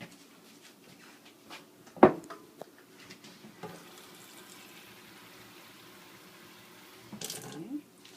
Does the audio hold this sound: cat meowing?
no